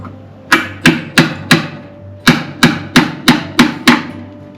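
Nine sharp hammer blows drive a wedge during a village carpentry job, struck in two quick sets of four and five with a short pause between, loud and close over a low steady hum.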